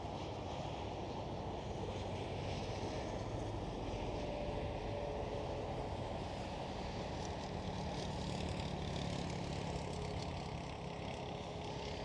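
Transavia Airbus A321neo airliner at Amsterdam Schiphol, a continuous broadband engine roar at steady loudness, heard at some distance without any talking.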